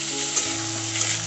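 Minced chicken sizzles steadily in a hot pan with onion, ginger and garlic, a close, continuous crackling fry with a few brief stirring scrapes and no voices.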